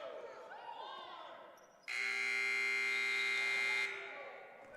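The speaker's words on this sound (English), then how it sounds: "the buzzer sounded before she could get it off" At a women's basketball game against Jamestown CC, the loud, steady electronic buzzer sounds for about two seconds to end the first quarter. It rings over crowd noise and squeaking sneakers.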